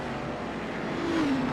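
A race car engine in a racing video game at Atlanta drones steadily, then rises in pitch near the end as it accelerates or passes.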